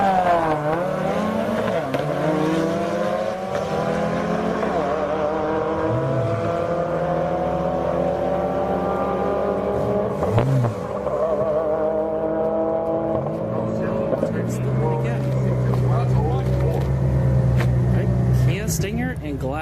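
Drag racing cars, a Subaru against a Kia Stinger, roar with rising and falling engine revs over a steady crowd and announcer din, with a loud car passing close partway through.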